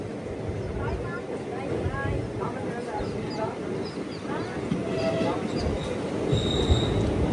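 Express train at the new platform of Pudukkottai station, a moving railway carriage with rumbling wheels, metallic squeals and clatter. Indistinct voices of people talking are mixed in.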